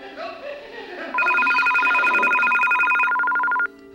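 A telephone rings with a rapid electronic trill lasting a few seconds, loud and near, after someone speaks agitatedly.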